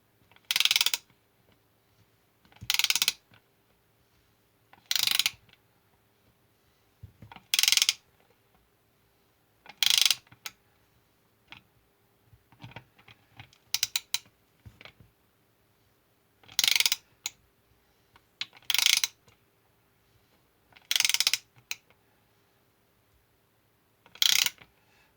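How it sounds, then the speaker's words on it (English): A fitting is tightened with a 15mm spanner during a rebuild of a Husqvarna 2100CD chainsaw, giving about ten evenly spaced bursts of ratcheting metal clicks separated by near silence, close and crisp. "This requires a 15mm spanner."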